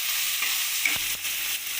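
Onions frying in oil with black cumin and dried chilli, a soft, even sizzle with a couple of faint scrapes of a spatula against the pan.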